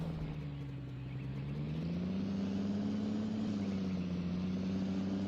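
Steady tractor engine drone in Farming Simulator 2013, a continuous low hum with a slight pitch rise partway through, running alone without talk at a constant level.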